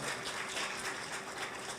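Audience applause for an award recipient at a summit, a dense continuous wash of clapping, faint and distant-sounding, with no talk over it.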